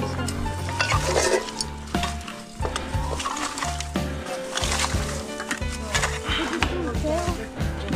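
Raking and scooping of spilled, leaked material: repeated scraping and shoveling strokes with irregular rhythm, close by, under a mix of background noise and intermittent voices.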